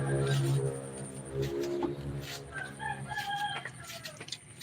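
Chickens clucking and a rooster crowing nearby, harmonic calls rising and falling over a few seconds with barnyard background.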